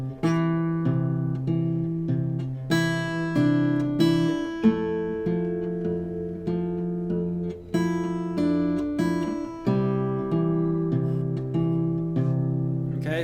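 Fingerpicked acoustic guitar plays a tune, a steady alternating thumb bass under a plucked melody, clear and close with no talking.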